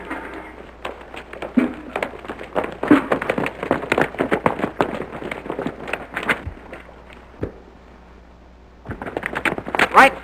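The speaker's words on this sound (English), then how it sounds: "This is your last draw. You'll never handle guns again, Morgan." Gunshots ring out in a gunfight from a 1933 western film: a string of sharp, loud cracks, several close together and a few more spaced out toward the end, mixed with voices and scuffling movement.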